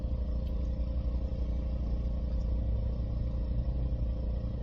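A 2011 Chevrolet Cruze engine with a lean-condition fault idles evenly, a steady low hum heard close and fairly quiet, with no voices.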